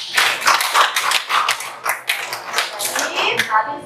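Classroom applause from students, a brisk patter of many hands clapping in uneven bursts, close and fairly loud, fading near the end.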